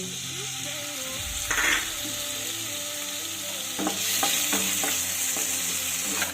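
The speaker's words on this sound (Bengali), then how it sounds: "এবার আমি দেখো নুন হলুদ মেখে রাখা চিংড়ি মাছগুলোকে ভেজে নেব" Small shrimp coated in salt and turmeric fry lightly in a hot pan, a continuous close sizzle broken by occasional scraping clatters of stirring.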